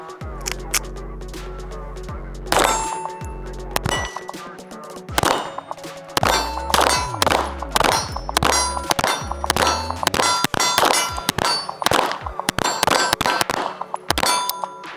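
Rapid pistol fire from a Cobra fitted with a Hayes ported island barrel rings out as sharp, loud shots, some in fast strings and some spaced apart, with ringing steel-target clangs mixed in throughout.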